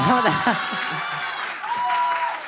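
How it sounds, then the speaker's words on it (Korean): Moderate applause from an indoor church congregation, steady and not very loud, with a voice speaking over it. "박수가 좀 약한 것 같은데요"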